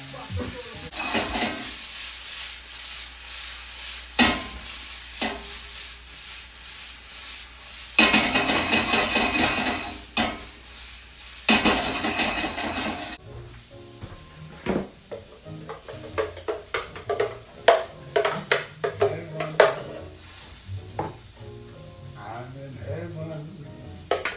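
Blanched, par-cooked green beans sautéing in a pan give a loud, steady sizzle broken by scraping and stirring clatter, with the hiss swelling in bursts over about twenty seconds.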